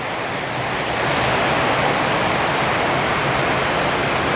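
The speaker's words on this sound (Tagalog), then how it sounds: "Ang lakas ng ulan ano?" Heavy sudden downpour in Daet, a dense, loud, continuous roar of rain that swells slightly after the first second and then holds steady with no talk.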